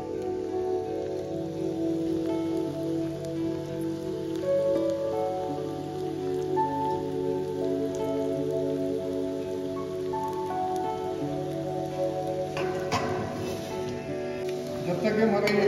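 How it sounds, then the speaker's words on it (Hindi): Potato dumplings for Potato 65 deep fry in a pan of hot oil, a dense, steady close sizzle and crackle like rain that runs the whole time, with a few clinks near the end and steady talking over it. "अब इनको हम दोबारा से फ्राई करेंगे फुल डन करने के लिए।"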